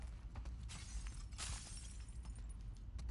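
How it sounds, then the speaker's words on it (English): Footsteps crunch over broken glass in The Last of Us Part 2 video game, a steady run of gritty, brittle crackles and small shattering ticks under a low rumbling ambience, with no talking. "I'm glad I'm walking over all kinds of broken glass"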